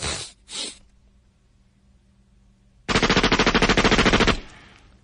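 Two quick sniffing bursts open the clip, followed after a pause by a loud, sustained rapid burst of AK-47 machine gun fire as a sound effect that ends abruptly.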